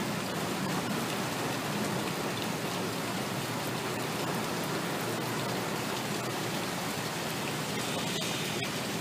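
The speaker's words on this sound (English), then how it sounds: "And then the rain coming off the roof." Rainwater running off a building roof into a vortex filter in Houston, a steady, dense rushing and splashing that continues evenly throughout at moderate loudness.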